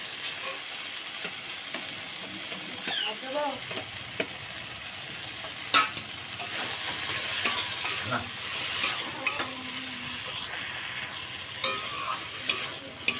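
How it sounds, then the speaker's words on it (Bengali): Ridge gourd fries with poppy seed and peanut paste in a pan, a soft continuous sizzle with scattered clinks and scrapes of stirring, fairly quiet and without talk. "দিয়ে আরেকটু ভেজে নেবো পোস্ত আর বাদাম এটাও দিয়ে দেবো"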